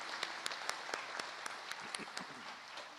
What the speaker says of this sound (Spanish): Yo creo que se merece también un fuerte aplauso como bienvenida